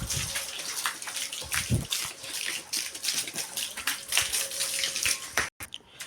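Steady spraying water hisses and splashes against a Yamaha XSR 155 motorcycle, continuous with small spattering bursts, cutting out briefly near the end.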